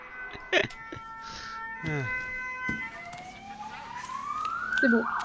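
An ambulance siren wails outside, a rising tone building toward the end, heard behind short bursts of indoor voices and clatter.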